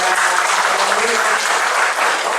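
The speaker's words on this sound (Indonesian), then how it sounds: "Sekali lagi beri tepuk tangan" A church congregation applauds during a worship service, loud continuous clapping from many people filling the space evenly from start to finish.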